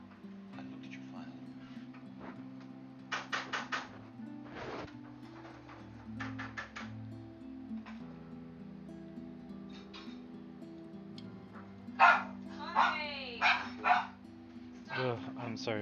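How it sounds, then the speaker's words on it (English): Several dogs bark at home in repeated sharp bursts, loudest toward the end, mixed with people talking and video game sounds. "I'm sorry about my dogs."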